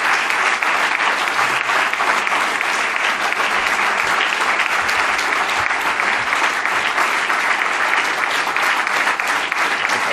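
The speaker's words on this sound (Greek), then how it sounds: "Προσέξτε, γιατί η διάρκεια του χειροκροτήματός σας θα παραπέμπει σε άλλου είδους καθεστώτα σε λίγο" A large audience at a New Democracy political speech in Greece applauds continuously and loudly, a dense, even wash of many clapping hands that holds without pause throughout.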